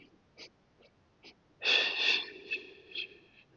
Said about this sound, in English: Inhale for 5 and exhale